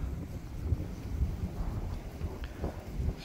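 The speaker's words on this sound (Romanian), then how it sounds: "Nu știu cât de bine o să mă aud, deoarece bate vântul foarte, foarte tare." Strong wind buffets the microphone on a forested hilltop, a continuous low roaring rumble with gusty swells, fairly quiet overall and with no talking.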